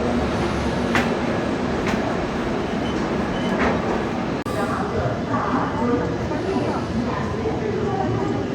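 An Indian Railways WAP7 electric locomotive hauling the 12612 Garib Rath express, with a steady rolling rumble and faint rhythmic wheel clicks throughout, a passing thump midway, and voices in the background.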